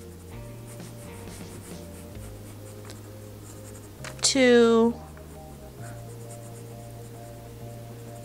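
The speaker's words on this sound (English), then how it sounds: "we're going to use our number 2 pencil" A number 2 pencil scratches briefly across a cake plaque, a short sharp scraping stroke midway through, under a person talking quietly throughout.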